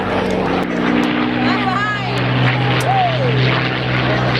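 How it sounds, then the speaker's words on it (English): Spitfire and Hurricane warplanes fly at an airshow with a loud, steady propeller-engine drone that swells slightly as they pass, while people talk over the noise. "Spitfire barrel rolls off, exit stage right, and the Hurricane appears"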